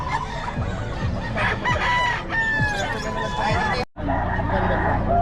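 Caged chickens and roosters at a poultry market in Bocaue cluck and crow continuously, with several long crows rising above a busy babble of nearby voices.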